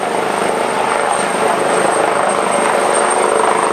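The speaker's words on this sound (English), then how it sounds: "Helicopter's on his way back in now to collect the winchman" Loud, steady roar of a rescue helicopter hovering close overhead during a winch rescue, with dense rotor wash and engine noise filling the air and no voices.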